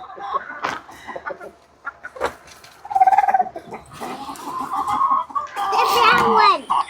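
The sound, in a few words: backyard chickens clucking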